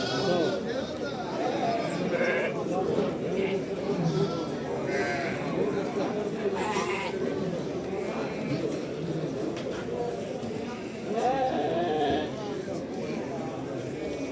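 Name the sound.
sheep bleating at Ganja sheep market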